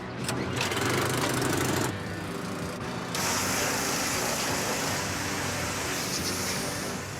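A power washer hisses and roars continuously at close range, cleaning the engine of a 1977 Cadillac, with a motor droning underneath and the spray tone shifting partway through.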